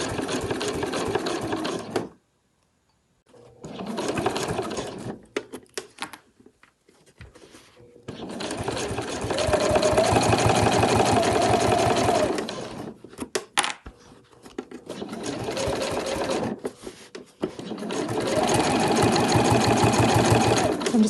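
A sewing machine backstitches on a travel wallet in several bursts of steady whirring, separated by pauses with small handling clicks and knocks.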